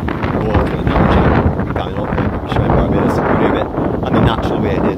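Wind buffeting a microphone at Martins Bay, Barbados, a loud continuous rumbling roar that surges and gusts throughout, with a voice partly buried under it.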